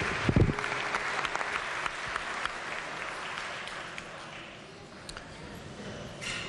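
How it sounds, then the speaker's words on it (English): Applause in a state legislative chamber for a student page in the West Virginia Legislature: steady clapping from a full room lasting throughout, with a sharp close clap near the start. "Please give her a round of applause."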